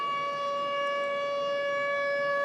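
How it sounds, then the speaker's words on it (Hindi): Air raid sirens wail over Tel Aviv in a single steady, sustained tone that holds evenly throughout, moderately loud with no voices. "तेल अवीव में हवाई हमले के सायरन बज रहे हैं।"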